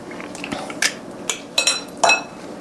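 Sardine tuna balls go into a cooking pan, making a few separate metallic clinks and soft taps spaced irregularly, close and fairly quiet.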